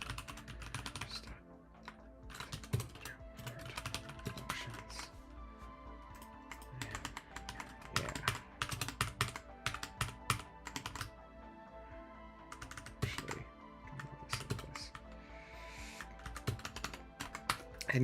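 Steady rapid typing on a computer keyboard during late-night Python programming, dense bursts of close, crisp key clicks with short pauses between runs, no talking.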